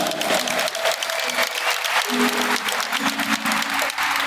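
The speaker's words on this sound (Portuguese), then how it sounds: "Uma salva de palmas para essa família linda." Congregation applause for a family at a church service, steady, dense clapping that stays even and fairly loud for the whole stretch.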